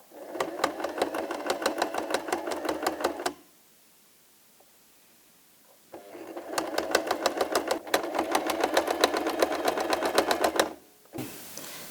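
Sewing machine stitching across the bottom of fabric to attach a handle, a rapid steady mechanical whir in two long close bursts separated by a quiet pause, then a brief third start at the end.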